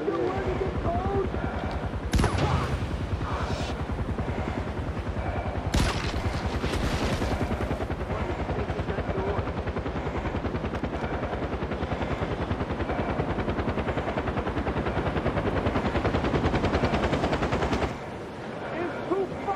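Sustained automatic gunfire from Far Cry 4 in a snowy Himalayan setting, rapid bursts and sharp shots rattling almost nonstop with a voice talking over parts of the barrage.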